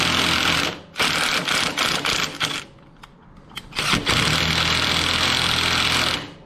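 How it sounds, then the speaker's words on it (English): A small 8-volt impact driver runs on a Harley floorboard bolt in loud buzzing bursts, stopping briefly and starting again, close to the listener with no talking. "I use my little 8-volt impact driver, start it by hand, and just go back and forth"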